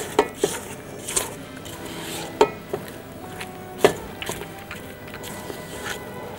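Brownie batter being stirred in a bowl, with a spoon clinking and scraping against the sides in irregular close taps and knocks over a soft background.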